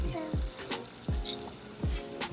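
Flaming Hot Cheeto bites frying in hot grease, a steady crackling sizzle with a few recurring low thumps and bubbling bursts, close and moderately quiet.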